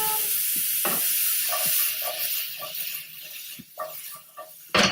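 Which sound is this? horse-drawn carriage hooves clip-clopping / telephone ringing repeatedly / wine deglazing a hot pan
wine deglazing a hot pan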